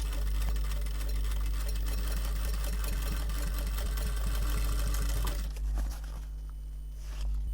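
A sewing machine stitching a sari cover runs in a fast, continuous mechanical whir close up for about five seconds, then stops, leaving a quieter room tone.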